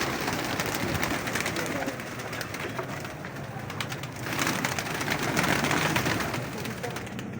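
Pigeons of many breeds, including Golden, Teddy and Imam Din, coo inside a crowded loft in Lahore, a dense, continuous low murmur with wing rustling close by.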